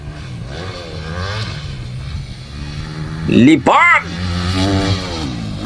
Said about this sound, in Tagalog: Ginalit pa yung motor.